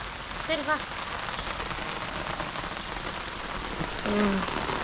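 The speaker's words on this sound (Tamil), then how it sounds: "அரை மணி நேரம் தான் இருந்தா சரியான மழை மழை" Heavy rain pours steadily onto surfaces, a dense continuous hiss with a few faint bird chirps and a brief voice in the background.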